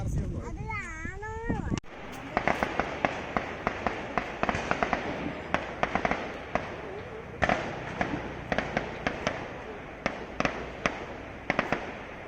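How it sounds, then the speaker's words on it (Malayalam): Sharp gunfire bursts crack out in Darjeeling, like temple firecrackers, as a string of irregular reports at moderate distance. A brief voice is heard at the start. "വെടിവെക്കുന്ന സൗണ്ട് കേൾക്കുന്നുണ്ടല്ലേ"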